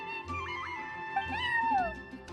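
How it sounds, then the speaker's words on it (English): A cat meowing in a video game, a drawn-out, wavering meow with a rising and falling pitch over steady background music. "I'm sorry, that's my neighbor's cat."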